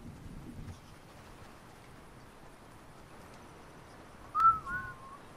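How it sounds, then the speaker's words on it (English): A short whistled phrase, two quick rising-and-falling notes, sounds near the end during Fortnite gameplay, loud over a quiet, muffled game background. "Bro, we're whistling."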